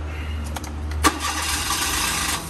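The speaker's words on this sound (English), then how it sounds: "Give it a crank." A Kei van engine cranks briefly and then catches, settling into a steady, quiet idle, heard close with no talking.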